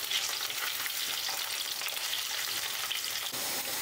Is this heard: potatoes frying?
yes